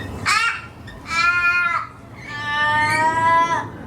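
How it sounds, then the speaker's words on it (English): Three loud, harsh crow caws in a row from a balcony in Australia, close by, each drawn out and raspy with short pauses between. "I've been woken up by like a crow or a raven sat on my balcony."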